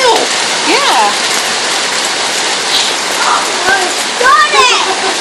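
Rain and hail pouring during a thunderstorm in College Station, a loud continuous hiss of falling water with several birds chirping over it and a voice speaking in places.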